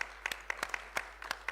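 Scattered hand clapping from a small audience at a regional review meeting, a few sparse claps spread irregularly across a short moment, moderately close with no talking.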